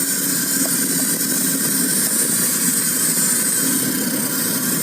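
A car engine fitted with a fuel-leaning device runs at steady revs, a constant close hum with a thin high whine above it and no voices.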